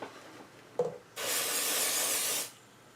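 A can of pixie spray gives one sharp click, then a single steady hiss of about a second and a half while being sprayed onto the side of a slimline craft scene in a quiet room.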